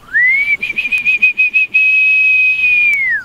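A person whistles a single rising note, then holds a high, steady tune for about three seconds, wavering through quick pulses before sliding down at the end, close and clear.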